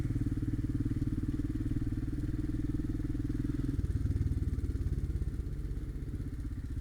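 A Honda 650 Transalp motorcycle pulls away on muddy trails, its engine a steady, close, throbbing drone that shifts in pitch partway through.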